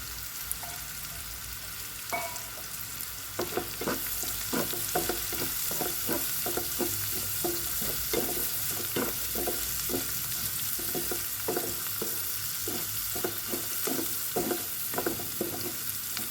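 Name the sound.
frying chopped garlic in a pan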